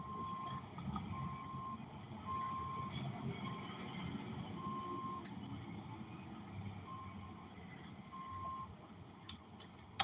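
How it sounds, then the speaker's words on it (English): A truck's reversing alarm beeps faintly and steadily in the distance, regular spaced tones repeating under a constant outdoor rumble, with no talk. "You hear that truck in the back too."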